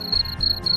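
Crickets on a cricket breeding farm, chirping in a loud, close, pulsing trill with three bursts in under a second.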